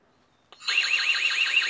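After a brief click, a security camera alarm starts sounding with a loud, warbling electronic tone that wavers rapidly up and down.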